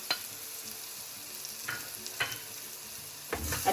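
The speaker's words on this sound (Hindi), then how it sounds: "अच्छे से मिक्स करेंगे।" Salt and turmeric being stirred into a spice paste in a pan, a quiet low sizzle broken by a few distinct scraping strokes of a spoon, close but faint.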